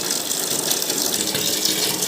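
Water running steadily from a bidet spray hose in a household bathroom, a continuous loud hissing gush with no breaks.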